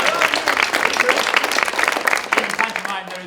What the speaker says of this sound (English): I want a big round of applause for yourselves